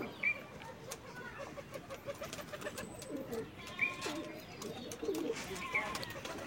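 Pigeons, adult birds with watery eyes, coo softly in several brief low calls spread across the recording, with faint higher chirps from other birds over a steady rustling background.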